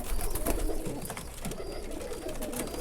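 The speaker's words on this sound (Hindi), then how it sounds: "ये इस टाइम पे आपके हाथ में प्योर लाल बाजराई, चटाईदार बाजराई, जो इंडिया के पुराने कबूतर हैं" Lal Bajrai pigeons, an old Indian breed, coo in soft low repeated calls close by amid light rustling and background noise.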